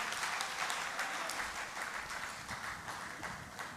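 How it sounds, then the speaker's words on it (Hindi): Audience applause at a poetry mushaira, a steady rush of many hands clapping from a crowd, even in level throughout and heard without speech. "आप सबकी भरपूर तालियां होनी चाहिए"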